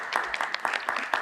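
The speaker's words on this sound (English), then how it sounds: "you should give yourselves a round of applause for getting these grants out." Audience at a Cleveland police commission community meeting breaks into a short burst of applause, a brief, fairly close patter of clapping hands with no talk over it.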